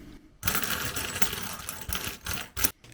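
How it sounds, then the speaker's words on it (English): Metal washers, some corroded, rattle and clink as a hand rummages through them, a busy jingling that comes in uneven bursts with short pauses, close and fairly loud. "once I dug through all my washers and found the ones that I could use as replacements"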